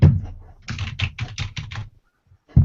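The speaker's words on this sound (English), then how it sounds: "It's very realistic message typing." Quick bursts of keyboard keystrokes tap out a short message, close and crisp, in a rapid run of about eight clicks followed by a pause and one more key press.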